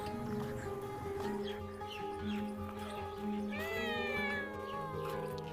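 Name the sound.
cat meowing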